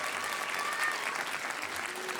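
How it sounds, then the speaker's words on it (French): A concert audience applauds a pianist and singer with steady, dense clapping, moderately distant and even throughout, with a faint murmur of crowd voices underneath. "On peut l'applaudir s'il vous plaît."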